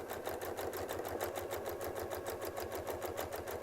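A sewing machine runs steadily while stitching a quilted medallion design, its needle chattering in an even, rapid rhythm at a fairly quiet level with no voices over it.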